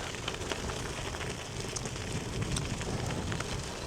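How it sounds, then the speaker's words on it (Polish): Heavy wet snow or rain falls steadily in a forest, a dense, even hiss of drops pattering on surfaces with light wind noise, continuous and fairly close. "O rany, teraz widzicie jak pada?"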